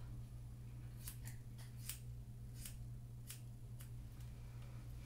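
Several crisp snips of scissors cutting a woman's own hair, quiet and close, spaced irregularly over a low steady background hum with no talking.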